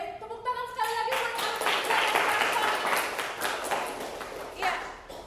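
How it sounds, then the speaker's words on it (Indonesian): An audience claps after a talk, a moderate wash of many hands following a brief tonal sound, steady and fairly distant for several seconds. "tepuk tangan sekali lagi buat"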